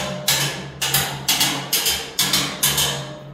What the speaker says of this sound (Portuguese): ó, eu já começo a bater.